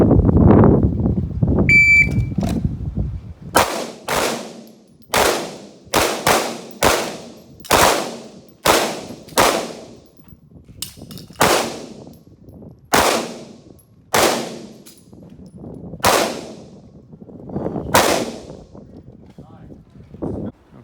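About eighteen loud, sharp pistol shots fired during a Taurus versus SCCY budget handgun comparison, spaced irregularly over twenty seconds, each crack followed by a short ringing decay, with people talking at the start.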